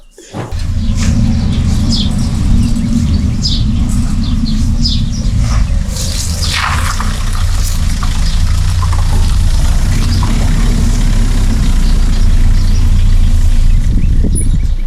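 A car pulls up outside a village house, its engine idling steadily and fairly loud for the whole stretch, with brief bird chirps and occasional clatter over the low rumble.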